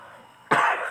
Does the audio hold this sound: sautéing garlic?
no